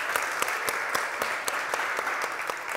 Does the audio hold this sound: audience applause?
yes